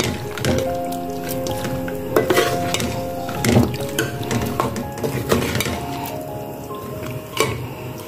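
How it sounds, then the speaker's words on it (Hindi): Fried chicken pieces stirred and mixed in a kadhai, with clanking metal spoon strikes against the pan, rattling scrapes and clinks at an irregular pace, close and fairly loud. "चिकन डालकर इसको अच्छी तरह मिक्स करेंगे।"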